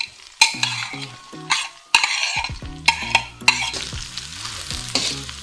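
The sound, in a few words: finely chopped onion added and frying in a pan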